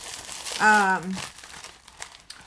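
Tissue paper crinkles and rustles in a DIY gift bag, soft and close, after a brief spoken voice at the start.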